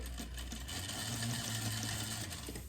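A sewing machine back stitches a curved seam on a frog plush, a close, steady mechanical whir running at an even, slow pace throughout with no voices.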